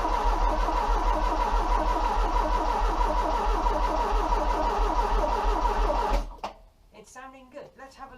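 A Ford Mk3 Cortina Estate engine cranks with a fast steady churning for about six seconds, loud and close, then stops, and someone speaks in the quiet that follows.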